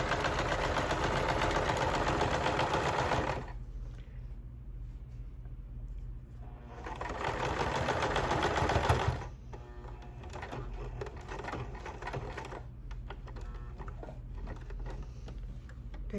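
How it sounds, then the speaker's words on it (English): A sewing machine stitches the end of a fabric rice bag, running in two loud bursts of rapid whirring with a quieter pause between, then settling into a softer mechanical hum, close by with no talk. "we're going to sew the end of the material of the bag"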